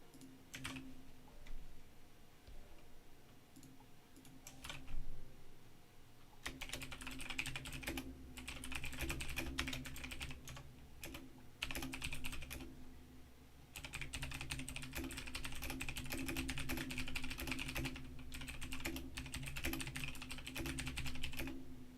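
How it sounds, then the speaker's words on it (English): Rapid, steady clicking of fingers typing on a computer keyboard, close and continuous in long bursts with brief pauses, over a faint hum and with no voices. "But sorry, I was typing."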